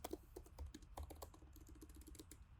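Code being typed on a computer keyboard, quick irregular key clicks and taps in a steady stream, faint and close, with no speech.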